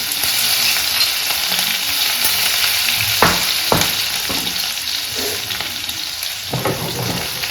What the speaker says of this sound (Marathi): थोडा मीडियम फ्लेम करू जिरे आणि ठोकलेला लसूण आणि हिरवी मिरची